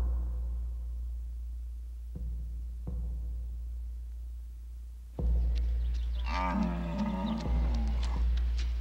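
Bred-back aurochs-like cattle, bred from present-day cattle to resemble the extinct wild ox of Europe, give a few deep, drawn-out moos over a low steady rumble, the calls growing louder and more tonal toward the end.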